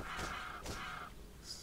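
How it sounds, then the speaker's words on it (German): Crows caw in the highlands of the video game Titan Quest, two harsh calls in quick succession at moderate distance, followed by a faint higher chirp. "Hier hinten haben wir noch ein paar Krähen."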